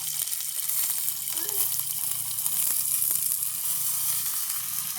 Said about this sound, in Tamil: வெங்காயம், மிளகாய், பெருஞ்சீரகம், வெந்தயம் எல்லாம் நல்லா வதங்கிட்டுது.